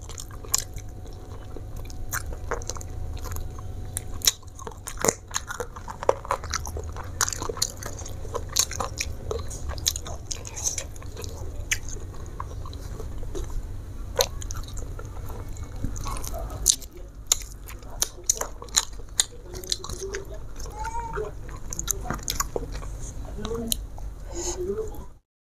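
Close, wet chewing and crunching of fried chicken eaten with rice, jengkol, salted fish and sour vegetable soup, steady mouth sounds running throughout with soft talk in between.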